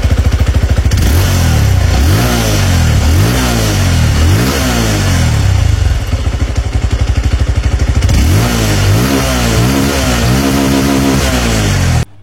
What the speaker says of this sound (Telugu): ఇంకా ఈ బైక్ ఎగ్జాస్ట్ సౌండ్ ఒకసారి వినండి.